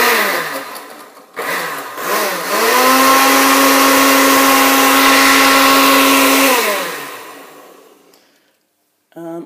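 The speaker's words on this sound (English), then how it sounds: "so now that we have everything in our blender, all we do now is just basically turn it on." A blender whirs as it mixes a beer milkshake with ice cream. It spins up with a rising whine, holds a loud, steady drone for several seconds, then winds down to silence, and a short clatter follows at the end.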